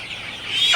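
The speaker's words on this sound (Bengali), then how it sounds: "এই দুটা মুরগি ধরছি" A Sonali super hybrid chicken, about 46 days old, gives a short, loud, shrill squawk as it is grabbed by hand, with the cry rising sharply at the very end.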